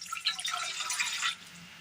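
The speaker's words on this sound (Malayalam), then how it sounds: "ഇതിലേക്ക് നമുക്ക് ഒരു ഗ്ലാസ് വെള്ളം ഒഴിച്ച് കൊടുക്കാം." Water from a glass splashes briefly into a pot on the stove, a short close liquid gush of about a second that stops abruptly.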